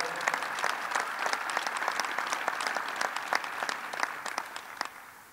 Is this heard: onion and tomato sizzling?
no